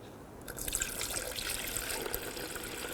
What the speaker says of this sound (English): fill this up with the appropriate coolant recommended by the manufacturer